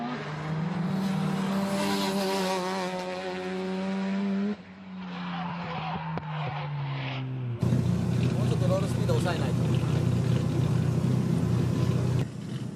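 Someone's heavily modified turbocharged drift car on a warm-up run at Tsukuba, engine droning and revving loudly with tyre noise, the sound shifting abruptly between segments, with a voice talking over parts of it.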